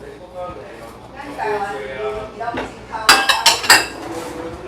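Dishes and bowls clatter and clink while they are stacked to dry in a home kitchen, with sharp ringing knocks near the end. Someone talks over the first part.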